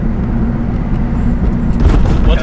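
An RB25-swapped Nissan R32 making around 1000 horsepower, fitted with an electronic boost controller, runs as a loud, steady, close engine drone that swells slightly toward the end.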